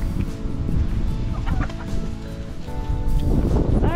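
Chickens on a family farm cluck and squawk near the microphone, a busy, continuous flock chatter with scattered louder calls and some rustling throughout.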